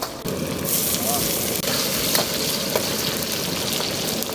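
Scallions and minced meat fry in plenty of oil in a home kitchen, with a steady, close sizzle and crackle that runs throughout without a break.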